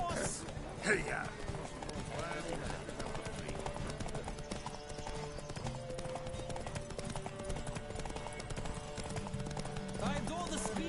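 Galloping horse hooves in The Witcher 3, a steady rapid clip-clop close by that continues throughout, with a brief whinny-like burst near the start and a game soundtrack underneath.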